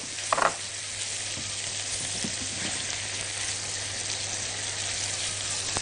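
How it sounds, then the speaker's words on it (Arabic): Chopped onion frying in a pan while being stirred, a steady close sizzle throughout with a few louder scraping stirs near the start. "حطيت البصله ونبتدي بقى نقلبها كويس، عايزينها تدبل بس."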